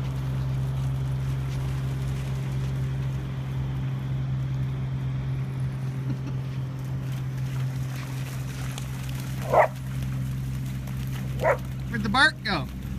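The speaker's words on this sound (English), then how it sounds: "You got the big bark, do you?" Dogs on a morning walk through grass give a few short, sharp barks near the end, heard over a steady low outdoor hum.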